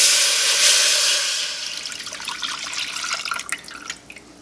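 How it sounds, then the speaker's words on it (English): Sauce mixture pours into a small sauce pot in a steady liquid stream that fades after about a second and a half, followed by a few soft drips and splashes. "I'm going to just pour this in"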